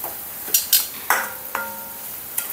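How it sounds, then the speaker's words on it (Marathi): A paste of ginger, garlic and coconut fries in hot oil, a gentle sizzle running underneath as a spoon clinks and scrapes against the pan a few times. "हे चांगलं तेलावर असं हे वाटण परतवायचं"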